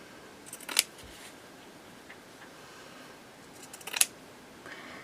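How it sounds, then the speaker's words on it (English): Two crisp snips of non-fabric scissors cutting through thick fabric, a few seconds apart, in an otherwise quiet room. "These are not my fabric scissors, but they're working okay, to be fair."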